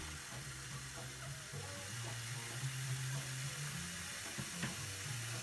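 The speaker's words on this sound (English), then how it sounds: "I'm kind of tempted to just top this up with a bit of water" Water is poured to top up a large glass jar of home-brewed kombucha, making a steady, soft hissing trickle that runs unbroken throughout with no talk.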